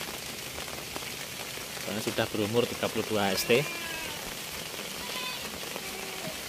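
Steady rain patters on surfaces around a garden during the rainy season, a continuous soft hiss under someone talking close by.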